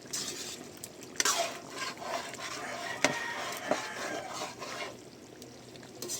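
Chicken being stirred in a cooking pan, with soft scraping and light sizzling throughout plus a few sharper clicks of the utensil against the pan, moderately close.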